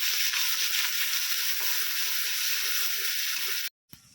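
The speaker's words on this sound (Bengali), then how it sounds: "পেঁয়াজ বাটা রসুন বাটা আদা বাটা সব কিছু একসঙ্গে খুব ভালো করে কষিয়ে নেব" Onion, garlic and ginger paste frying together in a pan for a dai potol curry, giving a steady bright sizzle that runs loud and close for a few seconds before cutting off abruptly.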